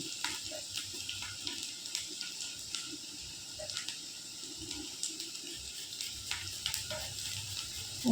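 Grated ginger goes into onions and green chilies frying in a pan, giving a soft, steady sizzle with light stirring scrapes and faint clinks, fairly quiet and alone without talk.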